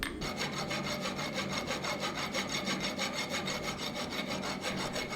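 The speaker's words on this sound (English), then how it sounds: "I cut off the excess material and use my rasp to clean the edges and remove any forge scale." A hand rasp filing the edges of hot-forged axe steel to clean off forge scale, fast continuous rhythmic scraping strokes, close and steady with no voices.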